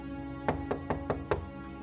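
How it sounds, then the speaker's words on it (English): Five firm knocks land on a house door in an uneven rhythm, close and distinct against a quiet background hum, with a faint sixth tap at the end. "I approached the door of the man's house and knocked,"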